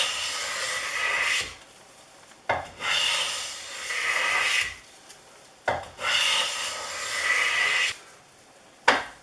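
A vintage Stanley No. 60 low angle block plane shaves a piece of pine in repeated strokes, each a raspy hissing swipe lasting a second or two, followed by short pauses and light knocks as it resets.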